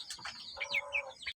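Farm pigeons held for sale give short soft calls and chirps at close range, a few brief overlapping notes with quiet fowl sounds in the background.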